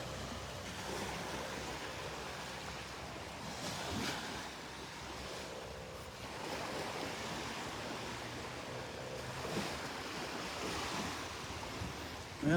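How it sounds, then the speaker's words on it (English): Ocean surf rolls onto the beach by Naples Pier, a continuous wash of breaking waves mixed with gusting wind rumble, steady and moderately distant with swells surging every few seconds. "Just can't get enough of the beach."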